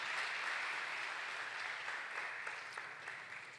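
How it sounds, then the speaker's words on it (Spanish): Applause from a church congregation at the close of a service, a dense, even roar of many hands clapping that tapers slightly over a few seconds, heard at some distance. "Denle ese aplauso al Señor, hermano."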